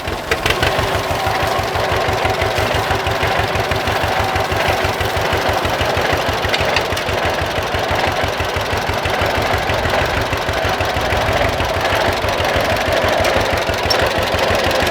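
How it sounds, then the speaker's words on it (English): A John Deere 420 tractor engine runs steadily at a close distance, a loud, even chugging thump with a rapid regular beat and a rough mechanical clatter, continuing unchanged throughout. "That tractor always starts and runs good"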